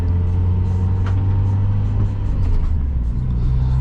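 A Mazda Miata heard from inside while driving, a steady loud low engine drone and road rumble with no change in pace and no talk.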